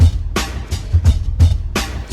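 Original drum loop before it was chopped and tuned: a punchy kick and snare groove with crisp hits repeating in a steady pattern, close and loud, no voices.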